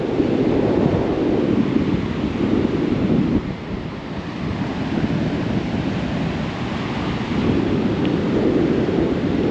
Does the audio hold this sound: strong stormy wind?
yes